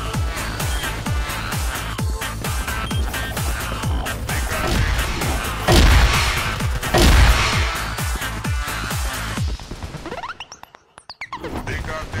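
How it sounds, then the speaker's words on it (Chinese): Rapid bursts of RPK machine gun fire in the video game CrossFire come as loud, repeated cracks in a steady fast rhythm, broken by a couple of heavier blasts before the shooting cuts out near the end. "老远就听见有人拿个 RPK 突突"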